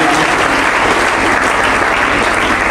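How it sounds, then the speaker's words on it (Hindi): Loud, dense applause from an audience at a talent award ceremony in Farmana honouring a student, steady and continuous throughout without pause. "बेटी के लिए, बहन के लिए एक बार पुनः जोरदार तालियां।"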